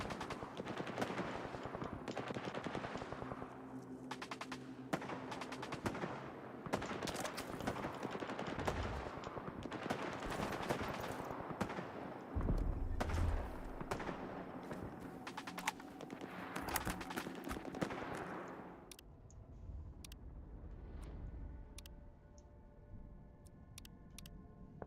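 Rapid gunfire in S.T.A.L.K.E.R. 2 rattles in dense, repeated bursts for nearly twenty seconds, loud and close, then falls away to a quieter, sparse stretch with faint clicks.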